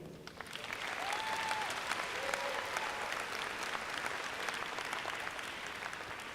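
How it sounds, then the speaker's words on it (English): Graduates at the 2023 Metropolitan Community College-Kansas City commencement ceremony break into a loud round of applause that swells within the first second and holds steady as a dense, sustained wash of clapping. "Graduates, please join me in a big round of applause to thank your loved ones who helped you get here."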